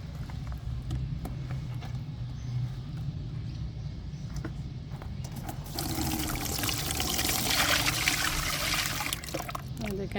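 A liquid mud mixture is poured and strained, giving a steady close trickle that swells into a fuller, louder splashing pour in the second half.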